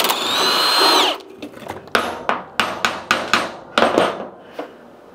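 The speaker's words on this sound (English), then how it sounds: "now I'm going to remove the lower shock mounts." Power tool working the lower shock mount bolts on a Chevrolet Nova's rear suspension: a steady whine for about a second, then a rapid series of sharp, close impact bursts in quick rhythm.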